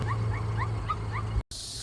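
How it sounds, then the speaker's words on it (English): A dog gives a run of short high whimpering yips, close and fairly loud over a steady low hum, at a free campsite west of Townsville, Queensland, Australia, breaking off abruptly near the end. "There you go, Tully dog"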